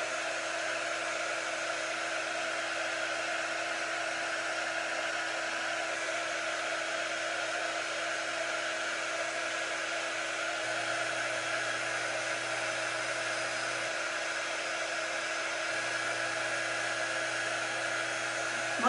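A hair blow dryer runs continuously at a steady, loud, high-pitched whir while drying freshly applied ink, with no talking over it.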